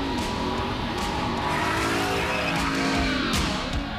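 Pontiac GTO drifting through a corner on a test drive, engine loud and continuous with steady revving and a rising pitch throughout.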